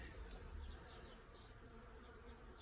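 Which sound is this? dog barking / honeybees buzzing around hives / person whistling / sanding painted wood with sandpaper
honeybees buzzing around hives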